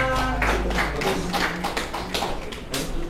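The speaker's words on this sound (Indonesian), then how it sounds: "Tepuk tangan semuanya." A classroom of students applauds after a presentation during a teaching-practice lesson at an Indonesian school. The clapping is a loud, close burst of uneven taps and claps that keeps going for a few seconds.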